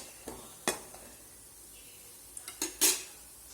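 Cashews dropped into melted ghee for sakkarai pongal, a soft low sizzle under scattered sharp clinks and scrapes of a spoon against the pan, several bright knocks toward the end, no voices.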